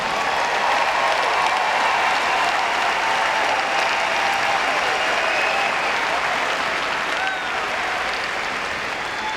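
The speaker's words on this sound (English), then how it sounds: "Please give them a round of applause." Sustained crowd applause fills a large hall at a university summer commencement ceremony, a dense, even wash of many hands clapping with no speech.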